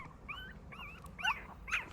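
Newborn puppies whimper and yip softly while scrambling over a bed, a few short high-pitched squeaky cries in quick succession, close and fairly quiet.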